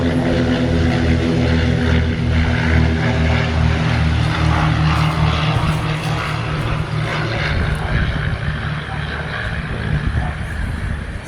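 Propeller airplanes fly overhead, giving a loud, steady droning engine hum with a throbbing low pulse that holds for the whole stretch without any speech.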